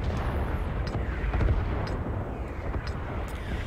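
Tank battle in a tank video game featuring the T-22 SR: several dull, distant cannon booms and thuds scattered over a rumbling low background, spaced irregularly across a few seconds.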